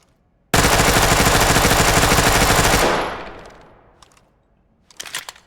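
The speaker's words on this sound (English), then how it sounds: "I'm just going to be testing it on full auto." A shotgun firing slugs on full auto in the game Ready or Not: one loud, dense burst of rapid shots lasting a couple of seconds, then a fading echo and a few shorter rattles.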